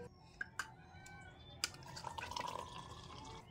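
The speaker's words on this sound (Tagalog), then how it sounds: "Dagdagan na lang natin konti ng tubig, mainit." Hot water poured into a cup of morning coffee, a soft, faint liquid stream with a few small clinks and drips over low room noise.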